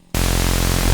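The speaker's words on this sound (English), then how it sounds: "you add a bit of white noise" Harsh static hiss of white noise from a U-he Diva synthesizer oscillator cuts in suddenly after a moment of near silence and holds loud and steady with a faint low hum beneath.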